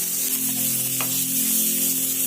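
Steady, close sizzling of soya chaap frying in a hot pan, a continuous bright hiss over a low hum throughout, with one brief sharper crackle midway and no talking.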